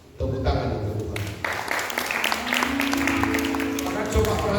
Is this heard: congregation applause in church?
yes